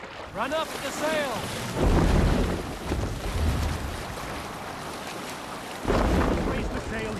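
A Viking longship's sail being raised at sea in Assassin's Creed Valhalla: rushing wind and waves with creaking and flapping canvas, loud and continuous, with brief voices and a surge of louder wind near the end.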